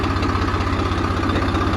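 A diesel tractor engine idling close by at a grain market, with a steady low, rhythmic chug throughout.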